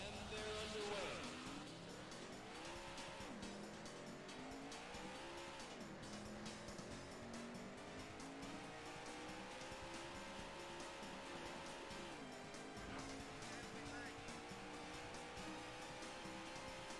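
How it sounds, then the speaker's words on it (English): Race car engine revving through rising and falling pitch sweeps with tire squeal, from the Daytona arcade racing game, loud and continuous throughout with no talk over it. "Gentlemen, start your engine."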